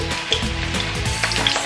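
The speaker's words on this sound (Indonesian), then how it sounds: "Ini aku lagi satu persatu masak dulu combronya sampai dengan kuning" Combro, Indonesian cassava fritters, sizzle steadily in hot frying oil until golden, a close, continuous crackle and hiss with small pops throughout.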